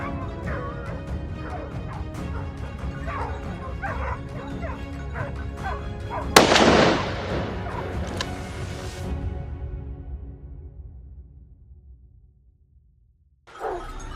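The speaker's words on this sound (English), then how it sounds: "We released the hunting dogs to track down the boars." Hunting dogs tracking wild boar bark, yip and whimper in excited, overlapping bursts close by. A loud crash hits midway, then the noise fades to near silence before a sudden return at the end.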